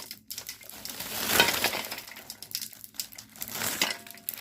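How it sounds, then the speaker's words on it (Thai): Ice cubes poured into a cooking pot while making sugar-glazed fruit, a loud crunching, clattering rush peaking early and trailing off into scattered clinks of ice against metal. "แล้วเราก็ต้องเทน้ำแข็งใส่"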